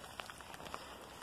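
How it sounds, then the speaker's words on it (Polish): Heavy rain pours steadily outdoors near a bus stop, a faint, even hiss with scattered louder drop hits and no talking. "niestety dalej leje"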